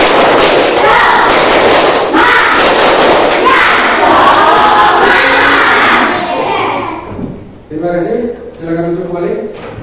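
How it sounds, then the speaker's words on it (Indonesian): A class of children stands and performs a tepuk semangat spirit clap, a loud, busy burst of rhythmic clapping and group shouting that fills the room, then drops away into a quieter stretch where a single voice talks. "Kita kasih tepuk semangat terlebih dulu"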